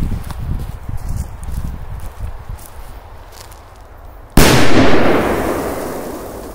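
An outdoor firecracker, covered to boost the effect, goes off in one sudden loud blast after a stretch of quiet shuffling, and the bang then rings out and slowly fades.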